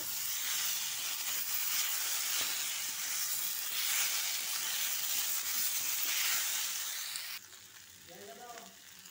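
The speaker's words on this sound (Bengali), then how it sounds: "আবারও আমি লবণ আর হলুদ দিয়ে ভালো করে এগুলো ভেজে নেব" Vegetables sizzle and fry steadily in hot oil with salt and turmeric, a loud, continuous hiss with faint stirring scrapes, fading somewhat near the end as a quiet voice comes in.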